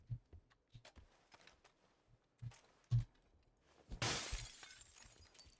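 Glass shatters in the video game PUBG, a sharp bright crash with tinkling fragments after a few quieter thumps and footsteps, heard fairly close with no talk.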